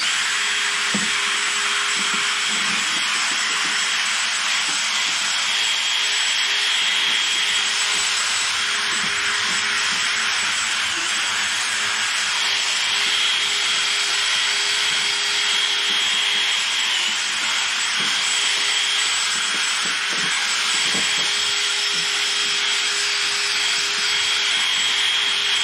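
Wet sanding a Mercedes W204 headlight lens by hand with 3000 grit paper, a steady, loud hissing rub that continues without a break, with faint knocks underneath and no talking.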